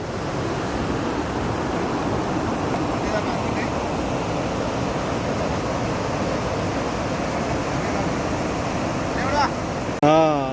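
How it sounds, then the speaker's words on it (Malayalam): A broad, steady rush of the Poonoor river flowing at a mini dam, loud and unbroken, with a brief sharper sound near the end. "പരന്നൊഴുകുന്ന പുഴ"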